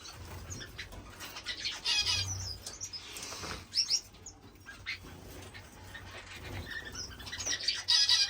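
Pet birds in an indoor bird room chirp and tweet steadily at close to moderate distance, with occasional wing flapping, bursts of bright chatter and soft cooing, and no talking.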